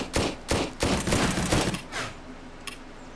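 Gunfire from the video game Zero Sievert sounds as a loud burst of four or five rapid shots, then a short decaying echo and one faint click, with no talk.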